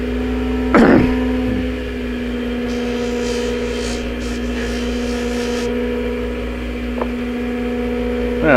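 A buffing wheel machine spinning at about 3,000 RPM gives a steady, loud motor hum with a constant pitch, broken early by one brief louder knock.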